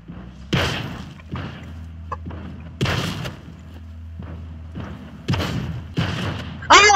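Repeated heavy artillery shell impacts in the Scrap Mechanic video game, a series of loud thuds and booms spaced a second or so apart, some near and sharp, others duller.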